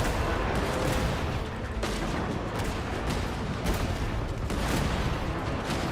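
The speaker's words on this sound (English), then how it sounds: "Oh, the cannon." Cannon fire in the video game Genshin Impact, a dense, steady barrage of booming blasts over loud battle noise that keeps going without pause.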